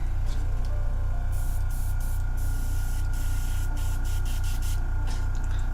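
A Harder and Steinbeck airbrush sprays paint for miniature work in a steady, close hiss, with a low rhythmic compressor hum beneath and no talking.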